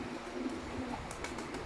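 A Teddy pigeon coos softly, a low throaty murmur repeating over steady background noise, close but faint, with no clear speech.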